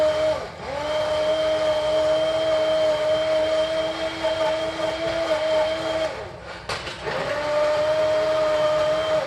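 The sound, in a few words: stick blender pureeing butternut soup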